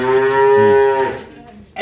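Holstein Friesian cow at a dairy farm gives one long, loud, close moo of about a second, trailing off, with a brief second call starting at the end.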